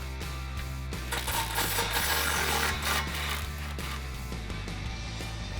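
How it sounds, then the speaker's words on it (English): A 16mm swivel socket on a wrench works loose the two flange bolts on the exhaust of a 2019-2021 RAM 1500 5.7L, giving steady metallic rasping and clicking with a few sharper ticks over a constant low hum. "Get the 2 bolts off of that flange."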